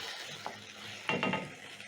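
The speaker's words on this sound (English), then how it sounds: "Toss the sauce together with the veggies." Vegetables tossed in a pan with soy sauce and oyster sauce for a spaghetti stir fry, zucchini and capsicum: a close, busy burst of rustling, scraping stir-fry sizzle that swells midway, with no voices.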